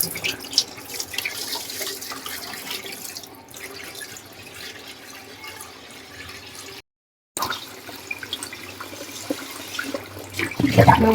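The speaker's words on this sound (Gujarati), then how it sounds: "આપણે આ ત્રીજી વાર પાણી એડ કરી ધોઈ નાખીએ સરસ ચોખા થઈ ગયા છે" Water runs and splashes while rice for dosa batter is washed by hand in a vessel, close and uneven with a brief gap, then louder swishing at the end.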